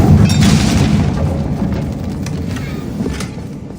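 A Confringo spell explosion in Hogwarts Legacy, a loud deep boom with a rumbling blast that slowly fades over a few seconds, with no talk.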